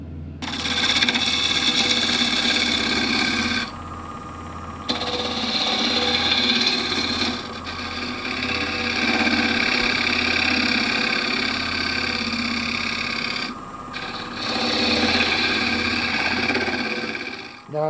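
A wood lathe hums as a tenon on a natural-edge branch bowl is cleaned up, its loud steady whir broken by brief pauses and cutting changes, with occasional talk over it.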